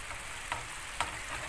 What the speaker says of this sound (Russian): Жарить грибы до полного приготовления на медленном огне.